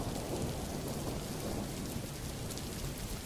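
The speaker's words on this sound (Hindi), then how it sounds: "बाहर काफी तेज हवा चलने लगता है और बारिश भी होने लगती है।" Steady heavy rain roars without a break, a dense wash of sound with gusting wind folded in, close and loud with no voices.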